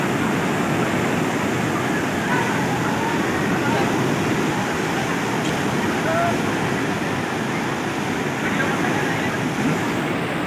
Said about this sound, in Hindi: पानी का नज़ारा देखिए कैसा है।